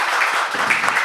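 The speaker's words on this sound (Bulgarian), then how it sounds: "Още малко аплодисменти, за да ни окуражите и двамата." A brief burst of dense audience applause at a poetry book premiere, loud and continuous for about a second.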